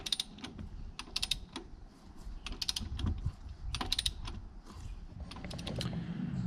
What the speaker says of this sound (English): So we're going to torque these lug nuts to 100 foot-pounds